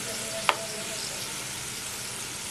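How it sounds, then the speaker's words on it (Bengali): Potato sticks fry in hot oil, giving a quiet, steady sizzling hiss with one brief sharp click near the start and no voices. "খুব ভালো করে কিন্তু একটু ফ্রাই করে নেব"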